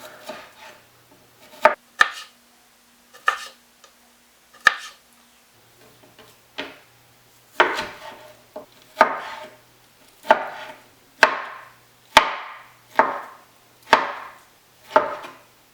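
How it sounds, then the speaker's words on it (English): A knife cuts through partly frozen venison on a board, thin slices against the grain: a steady series of crisp, close chopping thuds, sparse at first, then settling into an even rhythm, with no talking. "we want to slice this really thin against the grain"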